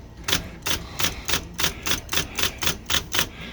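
An IBM Selectric electric typewriter types in a steady run of about ten sharp, evenly spaced keystrikes, each a crisp clack with a brief mechanical whir between strikes, close and alone with no voices.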